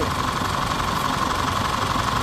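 An Isuzu D-Max diesel engine, recently repaired after an engine overrun fault, idles steadily with a dense, continuous rumble and a faint hum, close and unbroken with no voices.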